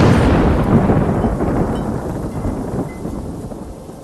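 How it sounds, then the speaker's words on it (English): A thunderstorm with rain in the Ghost of Tsushima video game: a loud, close roll of thunder rumbles and slowly fades over a steady wash of falling rain. "sounds such as thunderclaps or raindrops can be heard if you choose storm"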